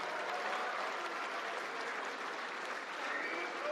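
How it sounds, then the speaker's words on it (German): A crowd applauds at an Austrian FPÖ campaign kickoff rally for the EU election. The clapping is thick, sustained and uniform for a few seconds, with no break. "Ein Applaus für die letzten Versprengten"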